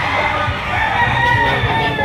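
Banded Super G chickens and other farm-bred fowl at a Lipa, Batangas poultry market crow and cluck over a dense, noisy background of many birds, fairly loud and close throughout.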